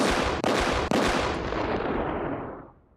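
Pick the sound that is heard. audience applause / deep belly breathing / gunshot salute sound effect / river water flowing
gunshot salute sound effect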